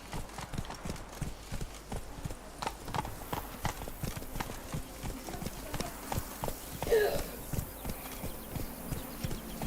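Horse hooves gallop in The Witcher 3 with a fast, rhythmic clip-clop that is close and steady throughout, with brief voices and game sounds woven in beneath.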